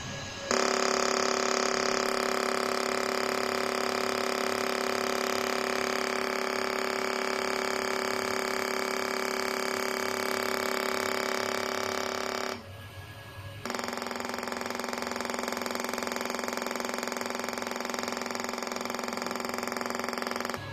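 An EMSCULPT magnetic muscle-building machine runs with a loud, steady, rapid buzzing hum. It drops out briefly for about a second, then resumes at the same level, with no one talking.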